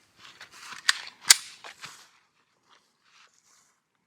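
A Sig Sauer P320 pistol fired at a range, with two sharp cracks close together among lighter clicks and handling noise, then near silence.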